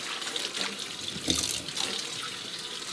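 Greens are rinsed in a sink under a running tap, a continuous close gush and splash of water with small shifts in the flow.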